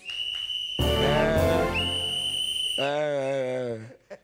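A person whistles a clear, sustained tune, shifting pitch between long held notes, close and loud with no talking.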